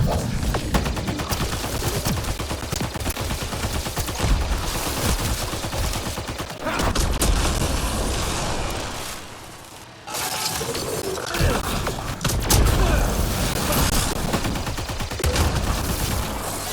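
Rapid disruptor-ammo gunfire in Mass Effect Andromeda, loud and dense with crackling, shattering bursts that run almost continuously, broken by a brief lull midway before the shooting resumes.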